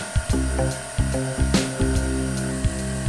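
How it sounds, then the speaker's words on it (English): A Lamb industrial high-speed weft knitting machine runs with a loud, steady mechanical hum and rapid repeating clacks and knocks at a regular rhythm. "Here's a preview of Lamb Knitting Machine's new high-speed weft knitter."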